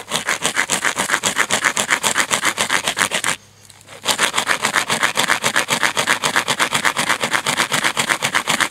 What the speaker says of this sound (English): I was literally just taking a break from sawing this